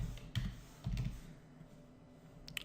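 Typing code on a computer keyboard for a PHP and MySQL project, two short close bursts of key presses separated by quiet room noise, with a faint click near the end.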